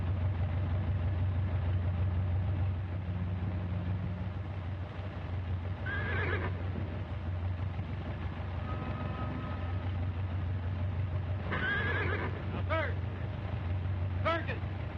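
A horse whinnies several times at moderate distance, short rising calls around the middle and end, over a steady low engine-like rumble and background bustle of a rigging scene.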